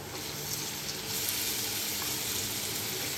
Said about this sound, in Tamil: இந்த அளவுக்கு வந்து வெங்காயம் நல்லா பொன்னிறமாக வதங்கினதும் எடுத்து வச்சிருக்கிற சிக்கனை அதில் போட்டுடலாம்